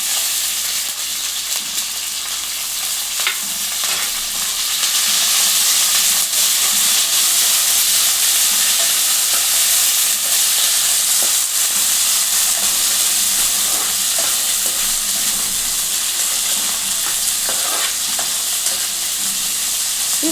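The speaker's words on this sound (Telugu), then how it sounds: "ఈ పచ్చిమిర్చి కూడా మంచిగా వేగాలి, ఈ ఉల్లిగడ్డ కూడా వేగాలి." Green chillies, onion and curry leaves fry in oil for a Telangana chickpea dish, making a loud, continuous hissing sizzle with faint stirring clicks throughout and no voices.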